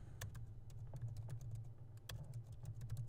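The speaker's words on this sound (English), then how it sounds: "So I'm going to type that in." Typing on a computer keyboard, a steady run of close, light key taps in an irregular rhythm over a low, constant background hum.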